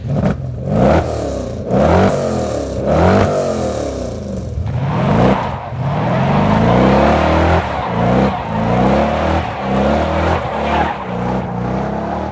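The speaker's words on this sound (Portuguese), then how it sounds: "a mecânica Hemi, o motor Hemi" A powerful 5.7-litre Hemi V8 engine in a Chrysler 300C revs hard several times in a row, roaring up and dropping back between bursts, loud and close.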